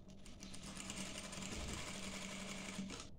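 A sewing machine runs continuously while stitching a dishdasha, a steady close whirring rattle with a low motor hum, even in level throughout and heard alone without voices.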